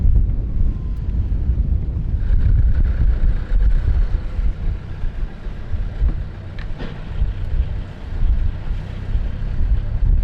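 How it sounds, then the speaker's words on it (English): Strong wind buffets an anchored sailboat in a steady, loud, low roar that barely lets up, with faint rattles over it and no talk. "That's a lot of wind."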